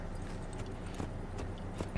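Horse hooves clip-clop at a steady walking pace in the Assassin's Creed video game, a continuous rhythmic series of thuds over a dense game soundscape with no talking.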